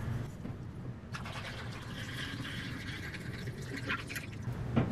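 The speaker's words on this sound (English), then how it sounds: "Let's pour in the developer and get it started." Coffee-based film developer poured into a film developing tank, a steady close liquid trickle and splash running throughout with no talking.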